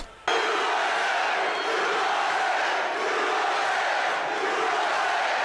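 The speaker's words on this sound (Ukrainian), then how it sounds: "Учасники мітингу аплодують" Political rally crowd in the United States cheering and applauding, a loud dense roar that begins abruptly and holds steady throughout.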